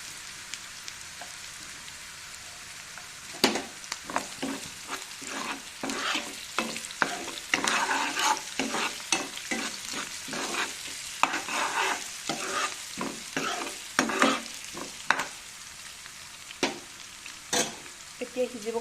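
Chopped egg pieces sizzle in a frying pan while being stirred for pasta, with steady frying hiss broken by repeated scraping and stirring clatters, close and moderately loud, no talk.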